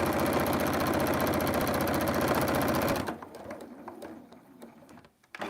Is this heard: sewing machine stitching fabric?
yes